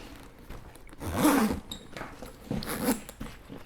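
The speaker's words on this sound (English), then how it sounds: "Let me zip this back up" A GORUCK x Carryology GRXC3 Berserker Viking Bullet Bag is zipped closed in two close, scratchy pulls, the first longer and louder, separated by a short pause.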